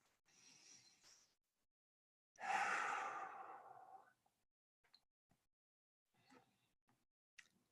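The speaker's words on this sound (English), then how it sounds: "take a few deep breaths." A person takes a few deep breaths in a calm workshop setting: a softer breath, then a longer, louder, close exhale, followed by faint small clicks and quiet stirring.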